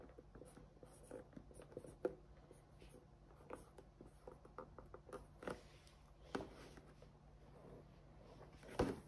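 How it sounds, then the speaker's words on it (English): Pen scratching on paper while writing a camping list, faint close-up strokes and taps in an irregular rhythm over a quiet background hum. "I'm actually gonna write down for camping here."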